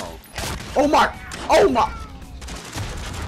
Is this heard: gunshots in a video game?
yes